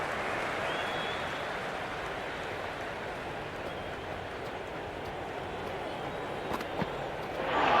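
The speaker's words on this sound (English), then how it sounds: "It's evident and ever so audible that the crowd is at near bursting point at today's play" Virtual stadium crowd in Cricket 26 during a Hundred tournament match, a dense continuous roar of cheering and applause that swells louder near the end.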